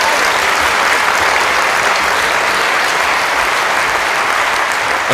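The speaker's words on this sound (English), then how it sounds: "The crowd acknowledging that world-class point construction." Crowd in an arena in Montreux applauding a table tennis point in a men's singles match, loud sustained clapping that fills the space evenly from start to finish.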